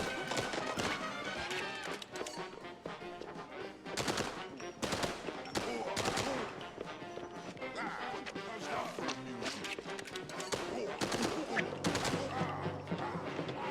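Video game gunfire, rapid shots and bursts mixed with a busy dense soundtrack and game effects, while a player talks over the action.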